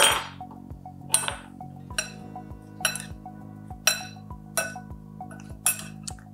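Salad tossed in a bowl with utensils, giving a steady series of about eight clinking, tapping knocks in an even rhythm, close and fairly quiet with no talk.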